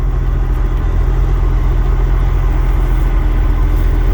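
A Western Star truck's engine running, a steady, close low rumble with a constant hum that holds level throughout, with no talking.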